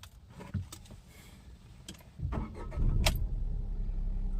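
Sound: car engine being started

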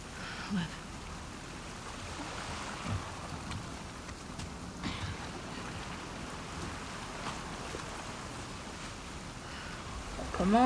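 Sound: rain in The Last of Us 2 video game

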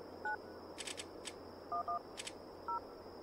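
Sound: phone dialing in video game Alone in the Dark

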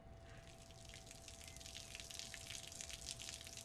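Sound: water overflowing from a full tank

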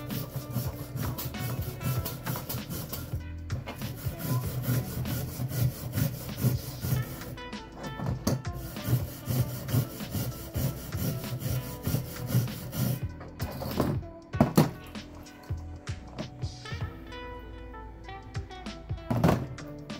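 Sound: scrubbing rust off a wrench

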